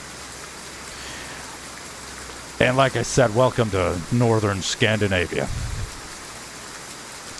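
Steady rain hisses in a truck simulator game set in northern Scandinavia, a constant soft wash of drops heard alone at first, then continuing under a voice.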